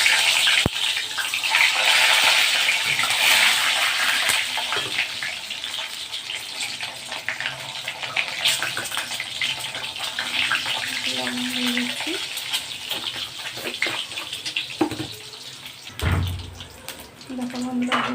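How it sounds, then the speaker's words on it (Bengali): An egg fries in hot oil for chicken biryani, giving a steady close sizzle that fades gradually, with occasional light clinks and stirring noises. "ওই তেলে আমি ডিমটা ভেজে নিচ্ছি।"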